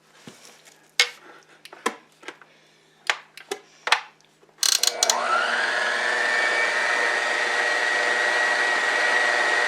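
An electric mixer whirs through stiff cherry kiss cookie dough, starting after a series of sharp clinks and taps, then running as a loud, steady motor drone that holds to the end.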